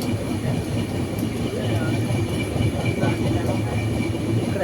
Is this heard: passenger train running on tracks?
yes